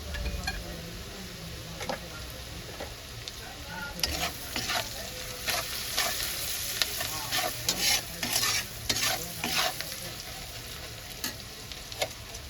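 Sliced onions sizzle steadily in a pan with salt and turmeric while a spoon stirs and scrapes in irregular bursts, close and continuous, with no talking.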